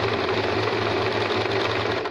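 A sewing machine stitches a buttonhole in a steady, close, continuous motorized whir with a fast regular needle chatter, running alone without pause for the whole stretch.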